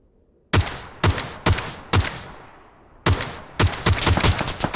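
Gunfire in PUBG: sharp loud shots, four spaced single cracks followed by a quicker cluster of several more, each ringing out with a decaying tail.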